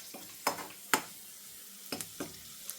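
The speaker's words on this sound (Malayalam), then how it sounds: "അച്ഛനാണ് ഇളക്കി കൊടുക്കുന്നത് അല്ലേ?" Green gram (cherupayar) payasam stirred in a pot, a few sharp scraping clinks of a ladle against the vessel over a faint bubbling, close and with no talk.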